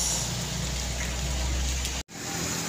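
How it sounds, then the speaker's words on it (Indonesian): Red Hino 500 dump truck passing during light drizzle, the engine a low rumble beneath a steady hiss of rain on the road, the sound cutting out abruptly for an instant near the end. "Melintas di tengah gerimis."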